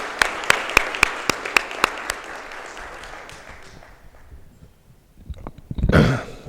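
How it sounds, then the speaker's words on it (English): Rhythmic, evenly spaced claps at a conference honoring ACI chapter members: several sharp, loud beats that fade into quiet, followed by a brief burst of noise at the end. "I think we owe a big round of applause to the ACI chapter members who made this all possible."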